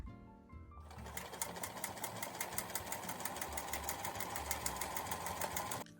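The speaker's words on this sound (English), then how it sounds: "I just sewed the line for where the pillows are going to go." A sewing machine runs steadily, stitching fabric for a bunny bed with a fast, even mechanical whir after a brief quiet start, close and continuous for several seconds with no talking.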